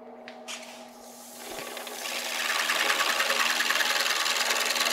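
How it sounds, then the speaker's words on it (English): A wood lathe turns a chair rung at slow speed, around 600 RPM, while a skew chisel finishes the surface, building into a steady, close, bright shearing hiss over a low motor hum. "I'm just going to finish it with the skew."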